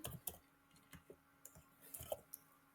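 Python code is typed on a computer keyboard: a quiet, close run of separate keystrokes tapping at an uneven pace, with no voice.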